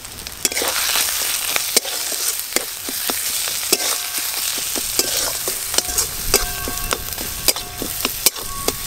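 Masala of chilli powder, turmeric and salt stir-fried on low heat, a continuous close sizzle broken by many sharp scraping clicks of a spoon against the pan.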